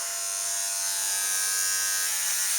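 Electric hair clippers fitted with a number 1 comb guard (about 13 millimetres) buzz steadily and close up as they trim a dog's jawline, giving a continuous even drone with no voices heard.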